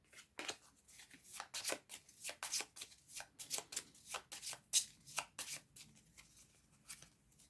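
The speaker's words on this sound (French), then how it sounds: "Donc, tu pioches 3 cartes." Cards are drawn and handled during a Shadowrun Crossfire tabletop card game, giving a run of quick, papery flicks and riffles in uneven bursts, close and fairly quiet with no talk.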